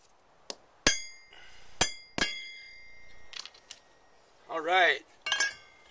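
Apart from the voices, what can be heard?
hammering a nail punch to mark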